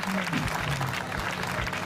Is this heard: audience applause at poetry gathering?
yes